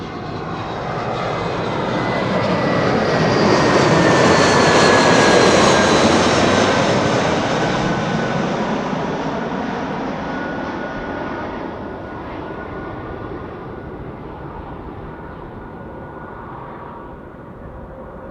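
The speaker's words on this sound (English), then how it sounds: "This is BA Flight 430 arriving from London Heathrow" A British Airways Airbus A320 arriving at Amsterdam Schiphol roars past overhead, a broad jet-engine rumble swelling to a loud peak with a falling whine, then fading slowly into distant rumble.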